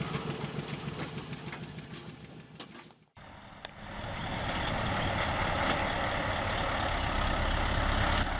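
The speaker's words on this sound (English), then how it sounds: "suddenly moves forward and backward, which can cause all the wood on the car to slide off the trunk floor" A Mercedes timber truck used for hauling logs runs its heavy diesel engine close by, first as a rough rumble, then after an abrupt break as a louder, steady, throbbing drone.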